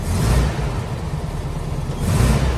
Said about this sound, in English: we'll give it a couple revs